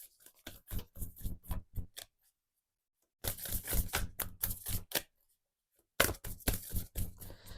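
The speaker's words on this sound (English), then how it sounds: "Give these a good shuffle." Oracle cards from the Work Your Light deck being shuffled by hand, coming in three bursts of rapid, crisp riffling and snapping card flicks with short silent gaps between them, close and fairly loud.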